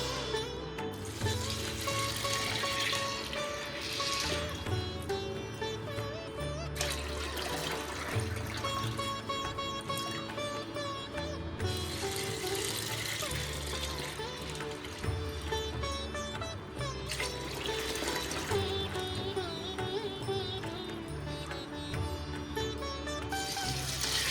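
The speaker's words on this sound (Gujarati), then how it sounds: "તો આને આપણે સરસ 2 પાણીથી ધોઈ અને પછી પલાળી દેવાના છે" Dry chickpeas being washed with water, a continuous loud rush of running water with sloshing and trickling as the chickpeas are rinsed, close and steady throughout.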